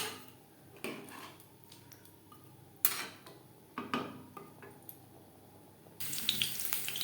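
Spice-rinse water poured into a cooking pot while making aloo chicken kosha, with splashing and trickling bursts, clinks of utensils against the pot, and a louder rushing pour near the end.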